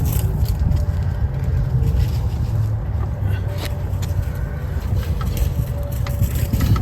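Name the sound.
Triumph T100C motorcycle engine turning over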